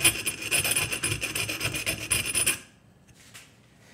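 A metal file rasps along the jaw sides of a pair of pliers, beveling them for smooth-jaw pliers used in jaw harp repair; close, steady back-and-forth strokes for about two and a half seconds, then near silence with a faint tap.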